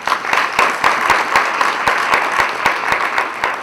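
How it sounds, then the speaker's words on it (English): An audience at a university programme launch breaks into steady applause, loud and close, with sharp individual claps standing out over a dense, sustained wash of clapping. "I think that deserves a round of applause"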